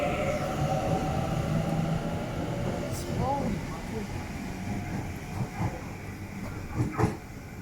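An express train rolls through a suburban station platform without stopping, a continuous loud rumble with wheel squeal and rattling, and clacks rising near the end as someone talks over it.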